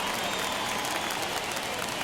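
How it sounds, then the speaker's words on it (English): A home crowd at a baseball game in MLB The Show 21 roars steadily after a leadoff triple, a dense, continuous wash of cheering and applause with no letup. "And the home crowd is absolutely eating this up."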